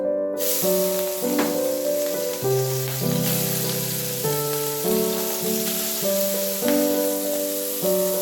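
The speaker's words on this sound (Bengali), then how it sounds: "এবারে মাছগুলো আমি দিয়ে দিচ্ছি। তেল খুব ভালোভাবে গরম হয়ে এসেছে।" Small puti fish fry in very hot oil, a loud dense sizzling hiss heard close, while a tonal musical melody plays steadily underneath.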